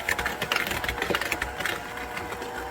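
An electric mixer beats eggs into banana bread batter with a steady, close motor whirr and a slightly pulsing beater rattle that runs without pause.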